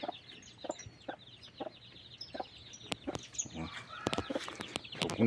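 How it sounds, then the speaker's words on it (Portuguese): An 11-month-old young Índio breed chicken clucks outdoors in short, separate bursts. The clucks are fairly close and come with small gaps between them, over quiet background noise. "Coisa mais linda o frango, ó."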